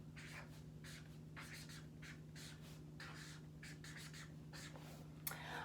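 A pen writes by hand on paper in close, faint bursts of scratchy strokes, separated by short pauses, over a steady low hum.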